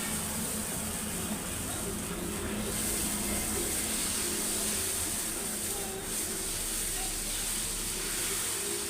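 Dosa batter sizzles on a hot pan with a continuous broad hiss, moderately loud and steady, with a faint low hum beneath.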